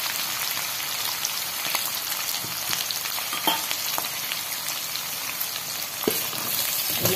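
Green chilies fry in hot oil for spicy kanda poha, giving a steady, close crackling sizzle with scattered spatters and a few utensil clicks throughout, with no talking.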